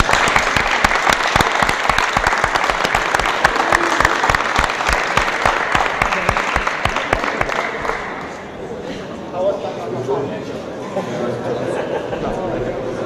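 A crowd applauds at an ADCC grappling tournament after a blue belt versus purple belt match, dense rapid clapping that fades after several seconds into crowd chatter and a voice.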